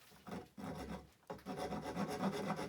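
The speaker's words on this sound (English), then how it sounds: "So I will gradually rasp down" A hand rasp files down a carved wooden face in repeated rough, scraping strokes. There is a short pause partway through, and the close strokes then pick up again, steady and rhythmic.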